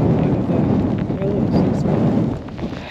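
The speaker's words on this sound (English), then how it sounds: "really windy and driving rain" Strong gusting wind buffets the microphone on an exposed hilltop during a fell race in driving rain, a loud continuous roar with rumbling low-end blasts throughout.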